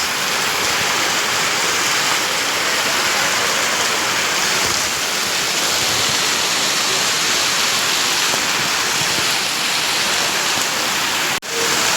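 Heavy rain pours down at night, a loud, dense and unbroken hiss that holds steady throughout, with a single brief knock near the end.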